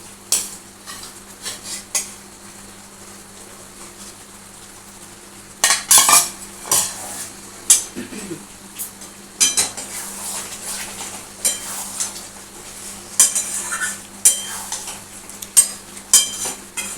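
A metal spatula clatters and scrapes in a pan as fried chital fish muitha dumplings are stirred into a cooked spice masala over a raised gas flame, giving close, intermittent clinks and scrapes over a faint steady hum.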